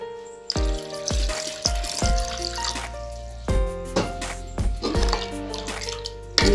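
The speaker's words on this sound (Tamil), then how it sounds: "இன்னும் தண்ணி ஊற்றணும்." Water splashes and drips into a bowl of pani puri water in several bursts, with short pauses between pours and ringing clinks.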